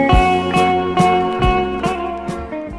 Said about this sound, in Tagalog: Itay pa'y ngagriring to'y cellphone na